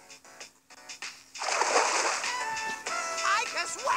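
A water-gun attack in Persona 3 Portable splashes with a sustained watery spray and slosh after a brief musical lead-in, with game music continuing under it.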